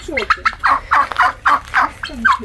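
Turkeys gobbling close by, a rapid run of loud, bubbling calls repeated about eight times in quick succession.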